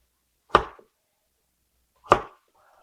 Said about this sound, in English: Now I'll cut them into 2 to 3 long slices.